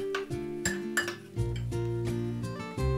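Spoon clinking and scraping against a bowl while soy sauce, sesame oil and garlic oil are stirred together, a series of bright, ringing taps at close range with no talking.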